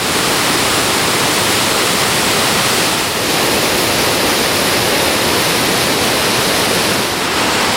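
Rushing water roars steadily and loudly, a dense continuous torrent close by with no voices, from a very short river near Lake Como, Italy, at its source by a grate.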